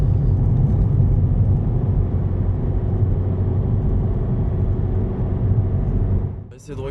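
Audi A3 2.0 TDI diesel car cruising at a steady speed, a continuous low engine and road rumble holding even throughout before a brief dip at the very end.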